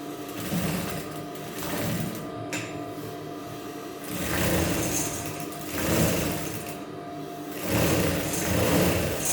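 A sewing machine stitches the side seam of a petticoat in close, continuous whirring runs with brief pauses between bursts.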